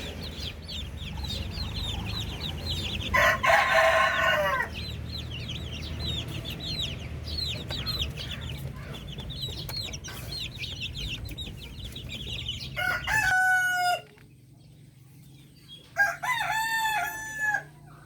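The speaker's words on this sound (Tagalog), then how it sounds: "nagpapakain na rin tayo ng ating mga bibe, tsaka manok na naka-free range dito sa ating backyard farm" Native Darag chickens on a free-range backyard farm, with roosters crowing loudly several times and hens clucking in a busy chorus throughout, mostly near with some calls farther off.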